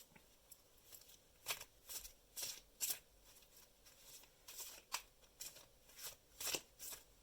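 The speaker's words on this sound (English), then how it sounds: "I'm shuffling. That takes a little bit of while." Oracle cards are shuffled by hand in a run of soft, papery riffles and flicks, repeated about a dozen times in an irregular rhythm, close and quiet with no talking.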